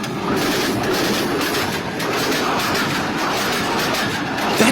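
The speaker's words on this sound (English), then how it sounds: "That distinct click-clack sound happens when the train rolls over the rail joints." Train passing directly overhead through an apartment building, heard from underneath: a loud, continuous rumbling roar with rhythmic clickety-clack as the wheels roll over rail joints, no voices.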